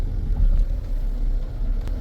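Rough, uneven low rumble of a Jeep engine misfiring badly on cylinder 6, a steady close idle with an irregular stumbling throb and no talking.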